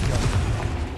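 A Confringo explosive spell in Hogwarts Legacy lands as a dense, booming burst with rapid crackling impacts. It is loud and close throughout the brief moment, with no talk.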